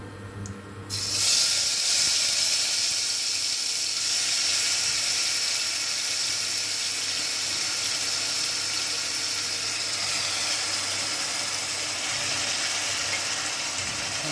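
Masala tipped into hot oil in a pan on an induction cooktop for a handi kabab fry, bursting into a loud, steady hiss of sizzling about a second in and holding for the rest, with no talking.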